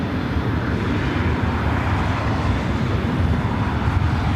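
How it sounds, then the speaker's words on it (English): A Southwest Airlines Boeing 737 MAX 8 arriving at LAX from Sacramento produces a loud, steady, broadband jet roar that holds evenly throughout. "Our next arrival is Southwest Airlines Flight 189, coming in from Sacramento on a 737 MAX 8."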